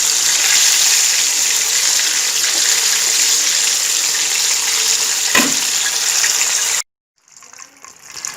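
Chicken simmers in a pan over low heat with Radhuni ready mix, giving a steady close hiss and sizzle for several seconds before cutting off abruptly, followed by faint quieter sounds.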